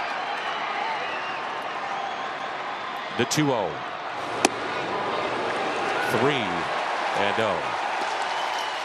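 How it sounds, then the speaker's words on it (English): Baseball crowd at Busch Stadium during a Blue Jays vs Cardinals game, a steady roar of stadium noise under a commentator's voice, with a few brief louder swells and a sharp crack midway. "This crowd ready to erupt here at Busch."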